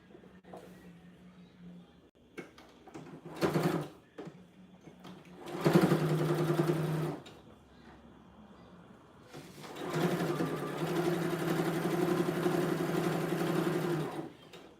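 Sewing machine stitching a tote bag in several short bursts, a whirring, buzzing motor with quiet pauses between runs and a longer steady stretch at the end, close and clear.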